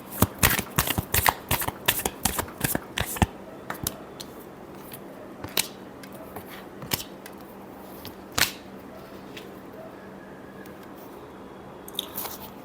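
Tarot cards shuffled by hand in a close, crisp flurry of riffling snaps, thinning out into a few scattered card flicks toward the end.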